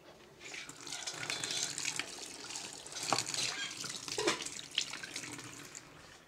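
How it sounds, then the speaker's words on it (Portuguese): Tap water runs steadily into a kitchen sink while hands are washed underneath, a close splashing flow with small spatters and shifts in the stream. "Lava minha mão"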